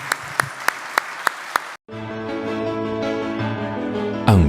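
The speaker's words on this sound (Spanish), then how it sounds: "un gran aplauso para Guillermo Dietrich" Audience applause for a speaker at a transport infrastructure talk: a few sharp isolated claps, then after a brief gap the sound turns into a steady tonal music bed, with a louder hit at the end.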